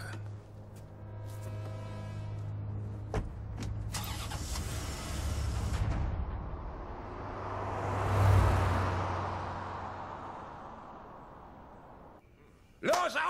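A new car is started and its engine comes up to a steady rumble that swells and fades over several seconds, with voices talking before the engine catches and at the end.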